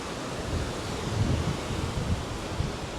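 Ocean waves wash onto a Riviera Maya beach beside a resort suite. They make a steady broadband roar of surf and wind with soft low surges, continuous and fairly close, with no voices.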